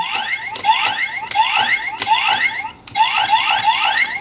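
A Kamen Rider toy transformation belt blares repeated electronic chirping beeps in rapid sweeping bursts, loud and close, with a brief pause before the pattern resumes.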